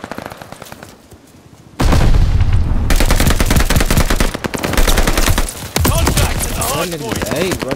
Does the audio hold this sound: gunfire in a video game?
yes